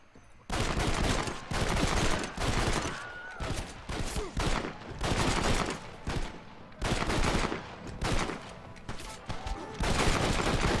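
Rapid bursts of gunfire in Red Dead Redemption 2's Undead Nightmare setting, loud volleys repeating in clusters with short gaps between, close and dominant.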